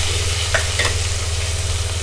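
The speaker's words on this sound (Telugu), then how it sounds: "చూసారా పోపు దినుసులు వేగిపోయినాయి కదా." Onions frying with tempering spices and dried red chillies in hot oil in a pan, a continuous close sizzle with a couple of brief stirring scrapes and a low electrical hum underneath.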